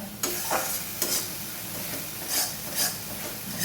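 A spiced paste of cumin, coriander, chilli and turmeric powders with ginger-garlic paste and blended tomato is stirred and fried in a pan, giving a steady soft sizzle broken by a few scraping stirs.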